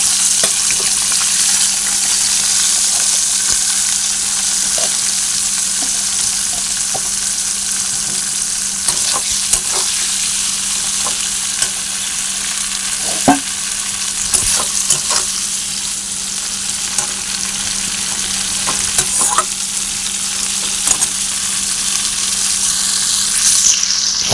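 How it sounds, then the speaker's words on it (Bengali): Okra sizzles steadily in hot oil, a loud continuous crackle with occasional sharper pops and stirring clatter. "ঢ্যাঁড়সগুলো দিয়ে দিচ্ছি তেলে"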